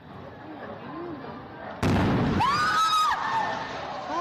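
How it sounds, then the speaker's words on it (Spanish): A loud explosion in Ambato, Ecuador, a sudden heavy blast after faint background noise, followed by a ringing, wavering tail and lingering rumble. "Fuerte explosión en Ambato. Mira esa terrible y estruendosa detonación, Alison y amables televidentes"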